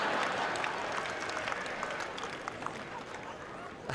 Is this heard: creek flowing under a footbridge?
no